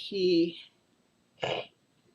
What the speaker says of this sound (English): I'm coughing, sorry.